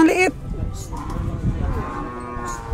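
A carabao water buffalo being loaded for transport after a sale, giving one drawn-out, nearby moo at full strength with a rising tone, and faint farmyard background noise behind it.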